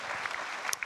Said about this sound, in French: On peut l'applaudir vraiment